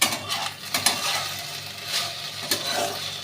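Food fries in a kitchen pan with a steady sizzling hiss. A utensil stirs and scrapes against the pan in short clinks and rattles, close and fairly loud.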